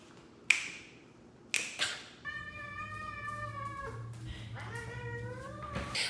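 A cat meows in a clear, drawn-out tone after a couple of sharp taps, then gives a second, lower meow, close to the microphone against a quiet background.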